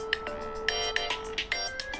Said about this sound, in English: I like your ringtone.